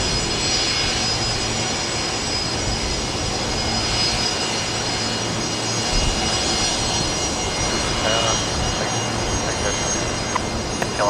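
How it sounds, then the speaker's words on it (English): A noisy Fokker aircraft arriving at a gate at Brisbane Airport, its engines giving a steady, loud, broad roar that holds throughout at close range. "now I've got a noisy Fokker here arriving on what looks to be Bay 50 in front of us here"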